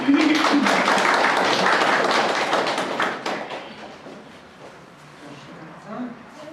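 Dense applause from an audience at a children's reading contest in a public library branch in Sieroszewice, loud at first, then thinning to scattered claps and fading with some talk.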